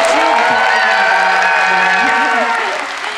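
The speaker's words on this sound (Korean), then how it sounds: "여러분 큰 박수" Loud, steady audience applause with some cheering fills a film festival screening event at the Busan International Film Festival for the film Broker, sustained throughout and fading slightly at the end.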